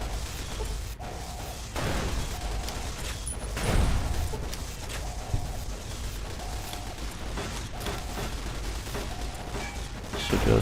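Fallout: New Vegas gunfire, a series of muffled, moderately distant shots spaced a second or so apart among mechanical clicks and whooshes, with a faint repeating tone in the background.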